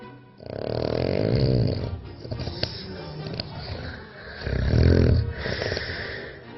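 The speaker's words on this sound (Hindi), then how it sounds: "कितने लोग सोते हुए खर्राटे लेते हैं" A sleeping person snores loudly, with long rattling inhalations repeating in a slow rhythm and quieter breaths in between, heard up close and alone.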